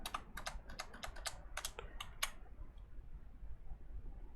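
Keys clatter on a computer keyboard as an Excel formula is entered, a quick run of distinct taps over roughly two seconds that then stops, leaving quiet room tone.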